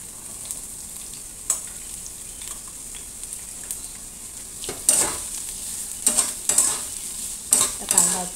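Chopped onion and peanuts frying in a pan for puffed-rice poha, a low steady sizzle with a spoon scraping and clanking against the metal, the stirring growing louder and more frequent toward the end.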